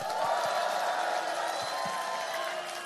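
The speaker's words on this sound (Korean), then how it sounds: "충직한 일꾼들 박수 한번 부탁드립니다." A crowd at an outdoor presidential campaign rally in Iksan keeps up a steady, fairly distant wash of clapping and cheering, with scattered voices mixed in.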